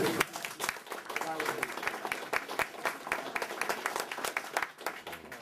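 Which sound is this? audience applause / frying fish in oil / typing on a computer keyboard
audience applause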